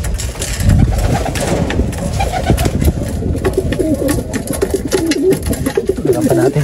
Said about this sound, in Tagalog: Magana naman silang kumain mga kalapatids.